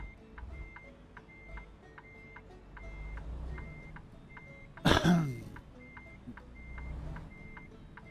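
Truck reversing beeper in American Truck Simulator, steady evenly spaced electronic beeps over low engine rumble while backing up, broken by one loud sharp crash near the middle.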